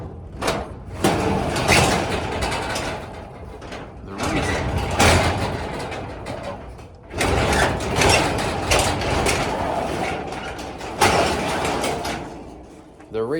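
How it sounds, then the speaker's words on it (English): A home gym door slides along and catches on protruding bolt heads, making loud, close grinding, scraping rumbles in several bursts separated by brief pauses. "The reason my door is catching some is because I had to replace a little few pieces of hardware"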